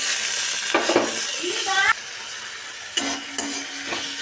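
Tomato, onion and spices fry in a pan with a steady close sizzle, broken by brief stirring scrapes and a short voice.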